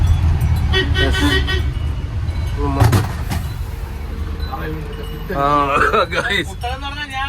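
A road vehicle passes and honks, with several toots over a loud, rumbling engine. A voice talks over it throughout.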